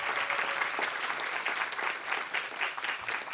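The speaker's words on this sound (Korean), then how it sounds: "한번 박수 한번 부탁드리겠습니다" Warm, continuous applause from a seated audience at a climate and environment leadership talk concert, moderately loud and even, with no voices rising above the clapping.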